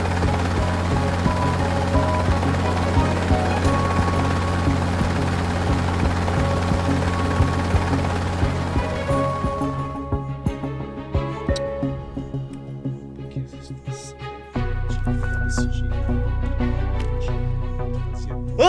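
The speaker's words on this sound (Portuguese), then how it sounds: "Preparado para a decolagem." A helicopter-like aircraft taking off, its engine and rotor roar loud and continuous, shifting and thinning midway before swelling again, with no talk over it.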